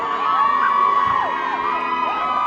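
A boxing crowd cheers as a female fighter makes her way into the ring on a fight night, with a dense, continuous roar and high whoops and shouts rising over it, loud and steady throughout.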